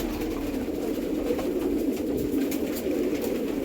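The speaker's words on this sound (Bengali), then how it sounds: "পুরো ঘর গম গম গম গম করছে চলবে সকাল থেকে রাত এর মধ্যে সব তাণ্ডব করবে প্রতিটা পায়রা দেখুন কত অ্যাক্টিভ" Many pigeons cooing nonstop indoors, a dense, steady murmur of overlapping low coos filling the room from close by, with faint wing flutters mixed in.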